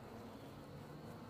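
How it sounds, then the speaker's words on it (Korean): Black hornets buzz around a beehive in a steady, faint droning hum that continues without a break, with no voices present. "그러니까 오늘은 이게 전부 다 새로 들어온 흑말벌이에요."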